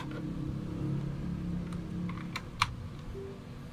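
Crisp clicking from a Dell Vostro 15-3568 laptop's mouse or touchpad buttons during testing, a few light taps then one sharper click near the end over a steady low hum.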